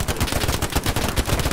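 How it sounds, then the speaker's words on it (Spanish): Gunfire in Hell Let Loose, shots aimed at bushes: rapid, dense bursts of loud, close automatic fire overlapping in a continuous crackling volley. "No disparéis arbustos, por favor."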